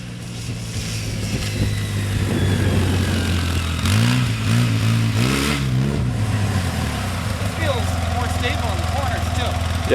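A factory-stock 2011 Polaris RZR S800 EFI side-by-side idles outdoors in a field, then revs hard in a few quick rising bursts before settling back, loud and fairly close.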